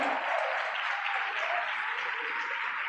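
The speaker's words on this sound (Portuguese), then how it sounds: "Aplauda Jesus aí." A church congregation claps in a steady, even wash of applause, moderately distant and continuous for a few seconds with no speech over it.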